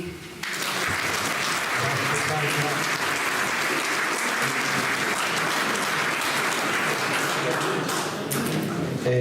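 Audience at a Sardinian poetry contest breaking into sustained applause, dense loud clapping filling the room for several seconds, with a few voices mixed in.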